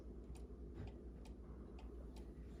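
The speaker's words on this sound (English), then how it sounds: "you want to hear it tick nice and evenly" A cuckoo clock pendulum ticks steadily and faintly at close range, about five soft clicks spaced roughly half a second apart, over a low background hum.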